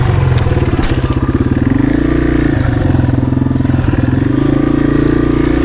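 A Yamaha TW200 motorcycle rides along with a steady, loud, close engine drone and slight rhythmic pulsing throughout.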